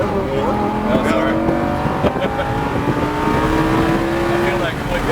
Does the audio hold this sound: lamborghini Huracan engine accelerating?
yes